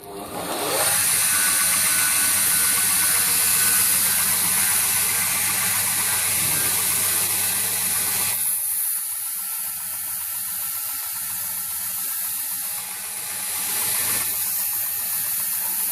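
A bench grinder trues up the profile of a knife sheath insert, its loud high whine spinning down after about eight seconds and continuing more quietly with intermittent rubbing contact as work proceeds.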